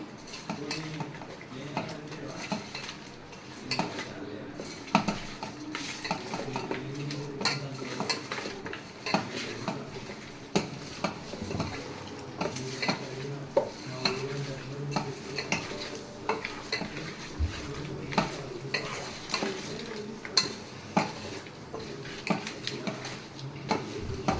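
A spoon scrapes and clinks against a pot while chicken biryani mixture with ginger paste is stirred, giving irregular close knocks and scrapes over a faint sizzle throughout.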